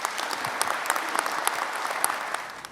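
Studio audience at a live Korean government policy broadcast gives a steady round of applause, with dense, even clapping that holds throughout with no talking over it.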